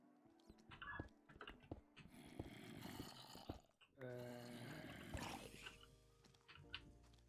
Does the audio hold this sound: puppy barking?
yes